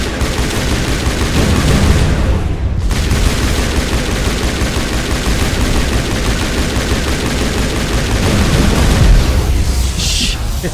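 Dense, loud gunfire from Mass Effect 1 on Noveria, a continuous barrage of shots and impacts filling the scene with a brief lull near the middle, with no clear isolated sniper crack standing out.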